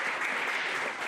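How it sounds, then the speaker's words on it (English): An audience at a museum learning center speaker series claps together in a dense, steady burst of applause that fills the room without pause. "Round of applause."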